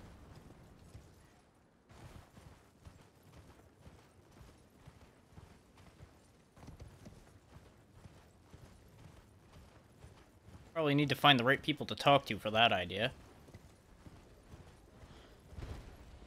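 Hoofbeats from horse riding in a video game come in a loud burst of rapid galloping for a couple of seconds, standing out over quieter in-game ambience while a person talks during the stream.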